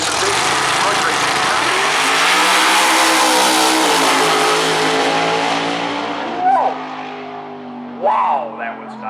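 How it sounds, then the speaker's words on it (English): A powerful racing truck engine roars and accelerates in a sustained rising drone at a drag race at Maryland International Raceway, then fades as a commentator starts speaking over it. "And it's a big truck racing."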